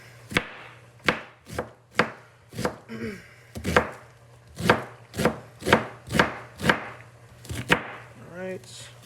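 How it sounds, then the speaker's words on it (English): A knife chops food on a cutting board in about a dozen sharp, evenly spaced strokes, close and distinct with brief pauses between. A faint low hum runs underneath. "Then we're just gonna chop this up."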